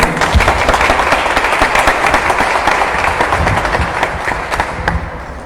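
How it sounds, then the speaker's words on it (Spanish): Applause from a seated audience for public servants at a municipal resource-administration panel: steady, dense clapping that carries on evenly for several seconds and tapers slightly at the end, with no talking over it. "les pido un aplauso para ellos"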